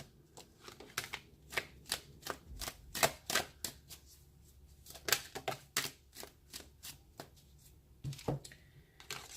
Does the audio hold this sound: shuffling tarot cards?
yes